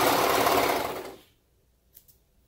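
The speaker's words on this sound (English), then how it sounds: "I'll close it back up and then sew this last side seam" A sewing machine runs a side seam on baby or toddler bell-bottom trousers with a fast, close, steady whirring rattle for about a second before stopping, followed by a faint click.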